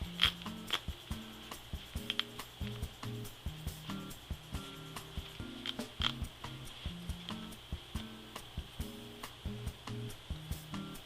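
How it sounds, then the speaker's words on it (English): Decorative stitching being ripped out along the zipper overflap of a pair of jeans, a run of quick, regular small tearing and snipping ticks repeating close up and fairly quietly, with no voices. "we need to rip out the decorative stitching that curves along on the overflap of the zipper"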